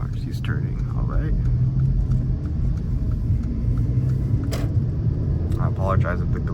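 A 2016 Mercedes CLA 250 driving and turning, with a steady low road and engine rumble throughout and a person talking over it.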